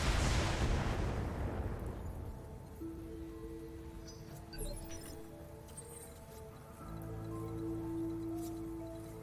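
Mech weapons firing in the BattleTech video game: a loud broadband blast opens and slowly decays into rumble, followed by a steady tonal hum and a low rumble that swells again near the end.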